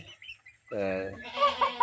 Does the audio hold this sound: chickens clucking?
yes